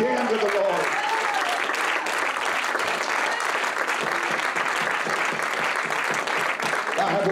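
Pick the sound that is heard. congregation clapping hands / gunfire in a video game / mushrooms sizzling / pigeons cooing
congregation clapping hands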